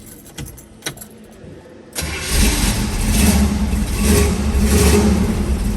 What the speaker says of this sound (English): Let's fire this baby up.